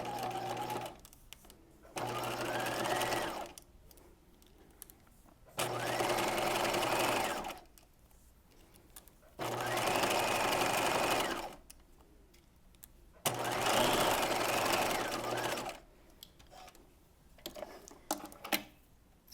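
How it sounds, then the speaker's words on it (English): Sewing machine running a long basting zigzag through two fabric layers of a top's cuff, in four steady bursts of several seconds each, separated by quiet pauses. "we're just going to hold these two layers together with that long basting zigzag at 1/2 inch seam allowance"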